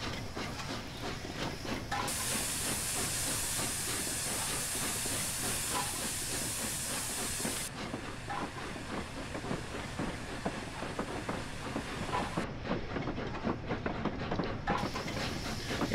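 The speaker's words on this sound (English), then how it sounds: "driving a steam engine is a lot different from driving electric and diesels." The Flying Scotsman steam locomotive in Train Sim 2020 gives off a strong, continuous hiss of escaping steam. The hiss swells and eases across long stretches over a low rolling rumble and faint rhythmic wheel clatter on a run toward Carnforth.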